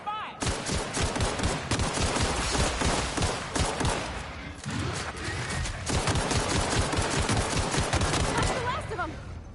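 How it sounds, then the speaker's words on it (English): Sustained heavy gunfire in a video game, dense rapid bursts of automatic fire filling the whole stretch with only a brief lull midway, loud and close. "Opening fire!"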